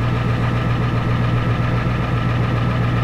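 A Ford F-250 with a 7.3 IDI diesel idles steadily up close, a loud, even low rumble with a rhythmic knocking clatter running throughout.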